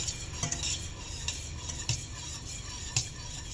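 Spoon stirring peach scrap jelly with sugar in a boiling pot, a steady scraping and bubbling texture with a few sharper utensil knocks against the pot, close and alone.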